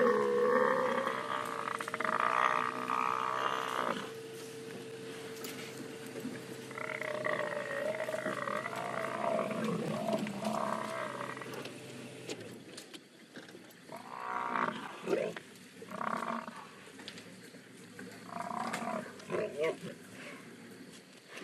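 Lions roar and growl while attacking a buffalo in the wild as a lioness tries to grab it, with continuous loud snarling and bellowing and low rumbling throughout, and a person talks over the struggle.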